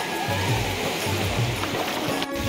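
Flood water from a swollen river and stream surges and rushes continuously in a flooded village, a loud, steady turbulent roar with low churning pulses and faint voices in the background.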